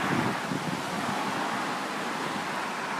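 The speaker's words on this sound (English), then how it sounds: "I know it's a bit windy" Wind blows outdoors beside an old tree, buffeting the microphone in a constant, loud roar with no pauses and no voices.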